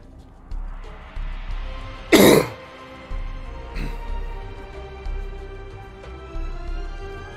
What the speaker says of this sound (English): I have to clear my throat